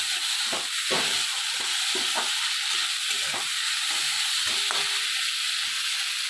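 A spiced puti fish curry with onion stalks being stirred in a pan, giving a continuous hissing sizzle broken by regular soft scraping strokes, close and fairly loud.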